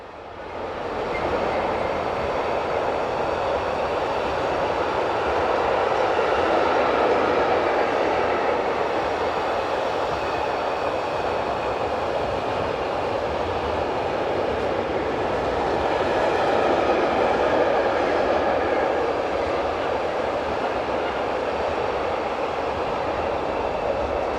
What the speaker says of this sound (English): is a new design of electric loco fitted with a small 750 kilowatt diesel engine